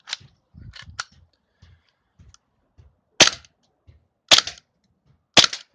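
Airsoft Desert Eagle pistol in semi-automatic mode fires three sharp, loud snapping shots spaced about a second apart, with softer handling clicks and rattles before them.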